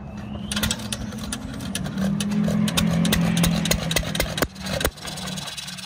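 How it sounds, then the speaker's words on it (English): A 1925 John Deere Model E hit-and-miss engine, mounted on a 1964 Wheel Horse chassis, runs with a steady low hum and a string of sharp, irregular clicks and knocks, close and moderately loud. "1925 John Deere Model E Hit and Miss tractor"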